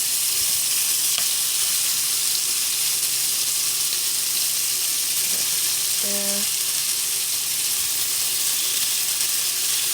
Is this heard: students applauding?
no